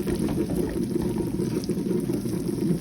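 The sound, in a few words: ridge gourd gravy simmering in pan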